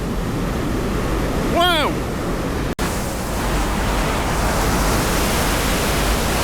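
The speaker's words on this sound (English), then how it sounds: "that's a lot of water getting pumped" Heavy roar of pumped water pouring at a water attraction at Six Flags Fiesta Texas amusement park, close and loud throughout, with one short exclaimed word early on and a sharp click partway in.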